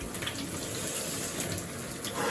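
Cold shower water runs steadily while someone rinses off, a constant close hiss of spray with no talk.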